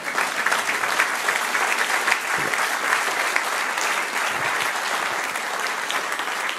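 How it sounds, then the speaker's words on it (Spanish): A church congregation applauds steadily during an evening sermon, a dense and even wash of many hands clapping that holds at the same level for several seconds with no voices above it. "Quiero un aplauso"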